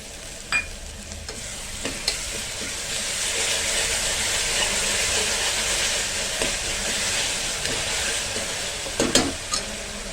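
Ginger garlic paste and curry leaves frying in a pan for beerakaya pappu (ridge gourd dal), a steady close sizzle with a few sharp clinks and stirring scrapes, no talk.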